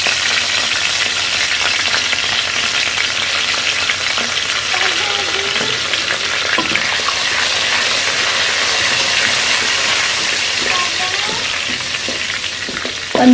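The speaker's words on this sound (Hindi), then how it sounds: "फिर उसमें जीरा डालकर हम इसको फ्राई करेंगे।" Cumin seeds fry in hot oil in a kadai, giving a loud, continuous hissing sizzle with scattered crackles and faint stirring, close up, with no speech.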